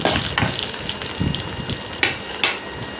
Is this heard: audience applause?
no